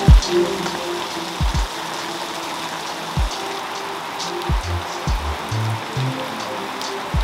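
Heavy early-morning downpour on a farm where quail and geese are kept, heard as a steady dense hiss of rain close by with scattered louder drops and low thuds, no voices.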